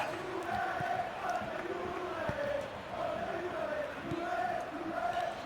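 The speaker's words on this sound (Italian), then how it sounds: "Sentite i cori per le tantissimi tifosi" Juventus fans chant in rhythmic waves across a football stadium during a Champions League match against Borussia Dortmund, the massed voices sounding distant and sustained.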